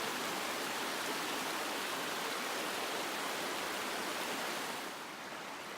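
Steady rushing flow of the Salmonberry River in Oregon beneath a bridge, a broad even wash of water noise that holds constant and eases slightly near the end.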